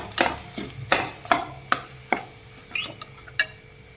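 A metal spatula repeatedly knocks and scrapes through chili-spiced masala in a pan while cooking village-style chicken, giving sharp, close clanks in a steady rhythm of about two strokes per second.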